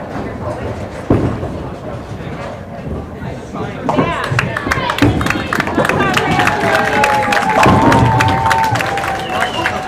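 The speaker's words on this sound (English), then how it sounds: "A lot of cheering going on over there." At a high school bowling match, a crowd cheers and claps, rising to loud sustained cheering, with voices talking nearby over the noise.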